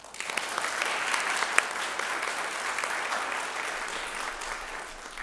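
Audience applause at a teacher-education program launch event, a steady wash of many hands clapping together for several seconds, fairly distant and even, easing slightly toward the end.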